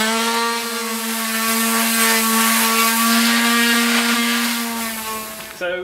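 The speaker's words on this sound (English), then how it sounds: "I'm going to start off with quite a rough sandpaper 60 grit." Coarse 60 grit sandpaper works over a Laser dinghy daggerboard or rudder foil, a loud, continuous abrasive hiss with a steady droning tone for nearly six seconds, close and alone.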